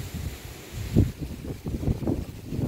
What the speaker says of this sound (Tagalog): Ang hangin, guys. Mahangin.